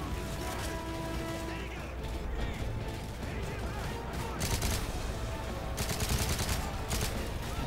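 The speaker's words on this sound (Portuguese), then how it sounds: "Eu só ouço tiros, mas não vejo ninguém." Gunfire in the video game Call of Duty Modern Warfare 3, dense bursts of automatic shots and mechanical clatter running throughout, with heavier volleys in the second half.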